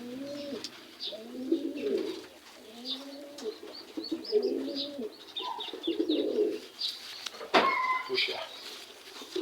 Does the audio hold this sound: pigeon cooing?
yes